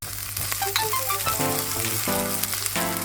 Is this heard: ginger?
yes